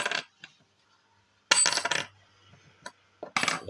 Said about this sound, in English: The half silver one, it's still got a ring to it, but just not as high pitched.